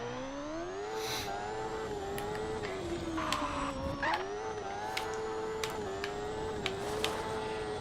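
A racing car engine in the video game RaceCraft drones steadily throughout, its pitch rising and dipping as the car accelerates and slows, with a few brief clicks and whirs over the continuous hum.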